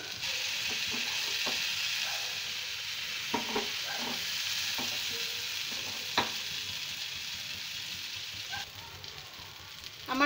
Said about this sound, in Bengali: আমি বেশ লাল লাল করে এগুলো একটু ভেজে নিচ্ছি।